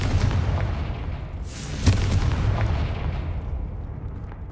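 Confringo spell explosion in Hogwarts Legacy, a single sharp, loud blast near the middle, standing out from a rumbling low background of game noise that fades slightly afterward.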